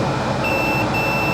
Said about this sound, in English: We're gonna go back to continuity mode with the multimeter, so when we have a short, we'll get a beep